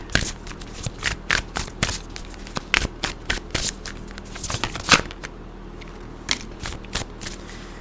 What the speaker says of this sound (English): Let me get some of this Oracle card here.